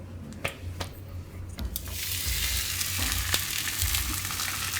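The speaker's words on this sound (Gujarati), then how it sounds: "તો આમાં થોડુંક તેલ લગાવી લઉં. અને શેકી લઉં આપણે." Cabbage and methi thepla flatbread roasting in a little oil on a pan, beginning with a few scattered clicks and then a steady, close sizzle that builds and holds.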